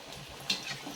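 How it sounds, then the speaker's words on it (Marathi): Fasting-recipe snacks deep-frying in hot oil, a faint soft bubbling sizzle over about a second with one brief brighter crackle midway. "आता आपण चांगलं गुडगुडे कमी होईपर्यंत असं आलटून पलटून तळून घेऊ."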